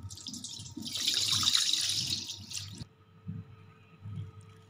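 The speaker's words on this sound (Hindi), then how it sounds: "और इसके अंदर पानी डाल दिया है।" Water runs and splashes steadily into a cooking pot with salt for a few seconds, then stops, leaving quieter background clatter and faint movement.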